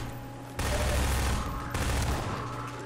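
Loud bursts of shotgun fire from the video game Half-Life 2, two heavy blasts with sustained booming roars, close and dominant, with a faint voice underneath.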